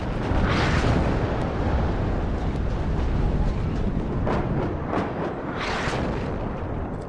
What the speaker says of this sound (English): Saint's opening up with his own artillery.